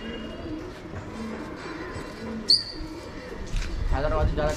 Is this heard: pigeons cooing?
yes